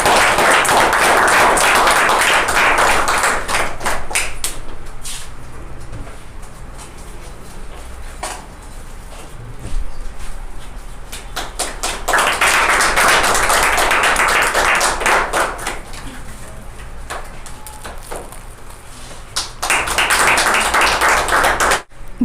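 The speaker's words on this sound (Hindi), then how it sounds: "सो एक बार जोरदार तालियां दीपिका" Bursts of enthusiastic clapping from an audience at a monthly rewards and recognition ceremony greet award winners, loud and close, rising and fading in several waves with quieter gaps between them.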